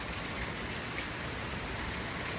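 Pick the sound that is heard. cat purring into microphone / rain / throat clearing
rain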